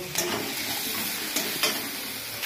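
Potatoes and onions frying in oil with turmeric, a dense close sizzle broken by a few quick spatula scrapes and stirs against the pan.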